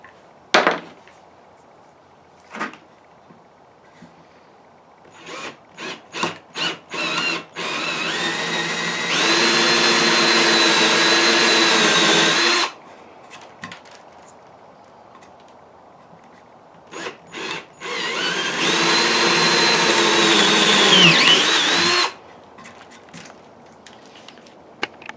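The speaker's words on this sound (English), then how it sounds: "let's drill some more holes" A power drill boring holes in wood for a Sharpie holder, two sustained whirring runs of several seconds each, with clicks and handling knocks between them, close and loud.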